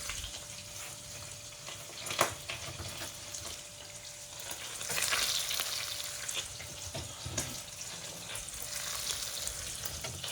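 Onion and carrot frying in a pan, a continuous close sizzle with occasional stirring scrapes and a brief louder burst partway through, no talk.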